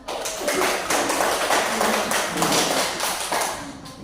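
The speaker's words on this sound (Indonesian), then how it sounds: "Silakan memberikan tepuk tangan." Students in a classroom applauding a presenting group, a continuous burst of many hands clapping up close for about four seconds.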